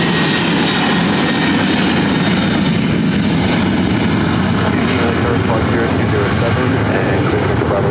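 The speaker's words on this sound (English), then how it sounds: "we're getting that JFK flight over here, Rudy" Broadband, steady roar of a passenger jet airplane at LAX airport, loud and continuous across the whole stretch, with faint radio-style talk mixed underneath.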